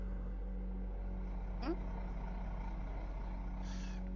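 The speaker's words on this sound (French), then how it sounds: "vous entendez un bruit de moteur." A low, steady engine drone, like a truck idling nearby, hums continuously at moderate volume.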